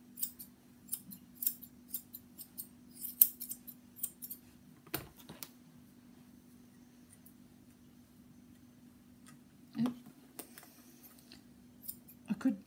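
Soft, quick snips of scissors trimming a West Highland White Terrier's fur, scattered irregular clicks close by, with a couple of brief louder snips and a faint background hum.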